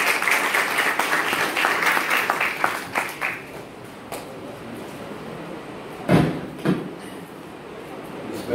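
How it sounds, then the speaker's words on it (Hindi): Applause from a college seminar audience on Kashmir, welcoming the principal, fades over several seconds, followed by a few scattered claps and room noise. "तालियों में उनका इस्तकबाल।"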